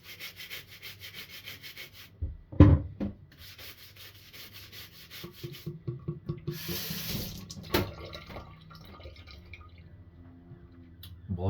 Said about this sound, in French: Vegetable brush.